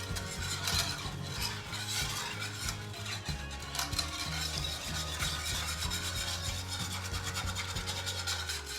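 A whisk scrapes and stirs broth in a pan, loosening browned bits from the bottom for a roast beef gravy, a steady rough rasping and rubbing close up that keeps going without pause.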